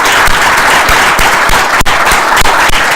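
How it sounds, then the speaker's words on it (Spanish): An audience applauds after a lecture on opals, a dense, steady burst of clapping from many hands that fills the room continuously and loudly, with no speech over it. "vamos a agradecer de todas formas a Cristina con un aplauso su charla sobre los ópalos"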